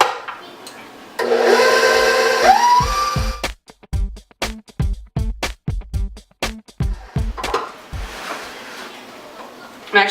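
An electric hand mixer whipping mashed potatoes in a bowl, a continuous motor whir that rises in pitch, then breaks into a rapid series of short chopping bursts, with a person talking partway.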